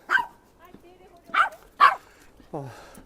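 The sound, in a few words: dog barking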